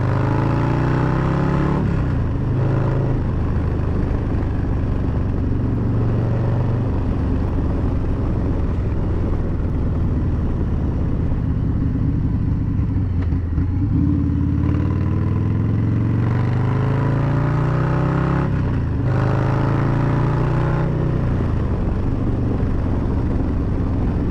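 A motorcycle engine running with a Fuel Moto tune during a ride, a loud steady drone with rising and falling revs as the bike accelerates and shifts, plus rushing wind, with no talking.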